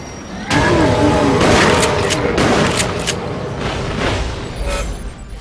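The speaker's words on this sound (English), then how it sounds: "at least there are plenty of zombies to blast with a shotgun." Shotgun blasts against zombies in the Wii light-gun shooter Resident Evil: The Darkside Chronicles come as loud, booming bursts of gunfire with crashing effects, several shots in quick succession filling the whole clip.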